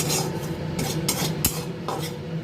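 Dried fenugreek leaves crushed between the hands for a chicken dish, a close, dry rasping crackle coming in several short rubbing bursts, alone with no talking.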